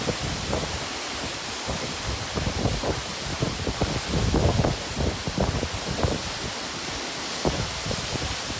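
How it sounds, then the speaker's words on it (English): Haifoss waterfall in Iceland heard from close range, a loud steady broadband roar of falling water with gusty wind buffeting the microphone throughout. "So this is about as close as we can get to the second waterfall."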